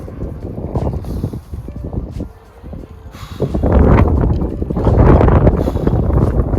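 Strong wind on a dark, cold night near the North Sea coast buffets the microphone in heavy, uneven gusts that rumble loudly and swell toward the end.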